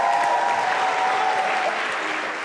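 A studio audience at a beauty contest on a televised show applauds a contestant with sustained, dense clapping that fades slightly toward the end, with faint cheering mixed in.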